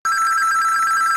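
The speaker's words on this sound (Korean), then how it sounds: "그때 전화기가 울렸습니다." A telephone bell rings steadily and alone, a bright continuous trill held close and loud with no pause, with no voices over it.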